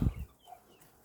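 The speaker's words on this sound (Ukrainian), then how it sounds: "Стоїть один кохінхін, щось тільки троє тут кохінхінів чистокровних." Cochin chickens in a farmyard, a brief low cluck up close at the start followed by faint softer murmuring, short and isolated.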